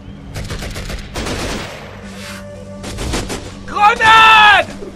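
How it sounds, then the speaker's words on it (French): Rapid bursts of automatic gunfire crack out in a jungle combat scene from the video game Raven Squad: Operation Hidden Dagger, several volleys in quick succession with shouted voices and a bright electronic tone near the end. "Je suis sous le feu! On me tire dessus!"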